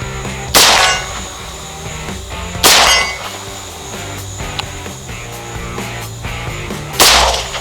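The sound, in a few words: M1 Garand rifle rounds hitting a substandard steel target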